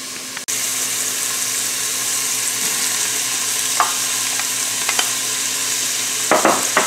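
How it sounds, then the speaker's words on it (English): Diced onion and garlic sauté in an Instant Pot, giving a close, steady sizzle with occasional scraping stirs and clicks of a utensil against the pot, and no talking. "I'm going to go ahead and add my 1 cup of diced onion and 1 tablespoon of garlic, and then I'm going to mix it all up"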